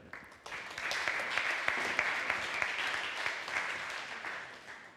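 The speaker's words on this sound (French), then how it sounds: "Merci de l'applaudir." An audience in a talk venue breaks into applause for an architect presenting a project, a steady crowd of clapping that swells after a short start and holds evenly to the end.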